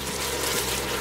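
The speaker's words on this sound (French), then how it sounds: "on va mouiller le tout avec du jus d'agneau, du bouillon de volaille aussi peut faire l'affaire" Lamb juice poured into a saucepan of vegetables, a brief, steady watery rush of liquid close by.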